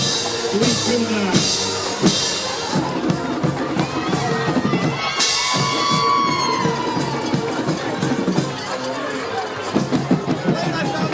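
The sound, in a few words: crowd cheering at high school football game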